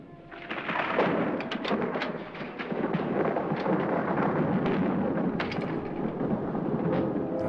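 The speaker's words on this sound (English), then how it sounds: "Just enjoy this creepy storm in a haunted house alone." A heavy thunderstorm from a 1959 haunted-house horror film: loud, continuous rumbling thunder and dense rain with sharp cracks throughout, close and enveloping, with no voices.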